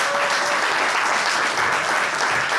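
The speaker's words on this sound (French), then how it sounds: "Une annonce et un tonnerre d'applaudissements" Thunderous applause from a crowd greets an announcement of the cocoa price in Côte d'Ivoire, a loud, dense, unbroken roar of clapping sustained through the whole clip.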